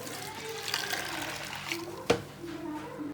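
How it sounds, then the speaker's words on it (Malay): Water poured into a blender while preparing a cendol batter mix, a soft steady trickle at moderate level, with a brief sharper splash near the end. "Masukkan air sedikit, genapkan secawan"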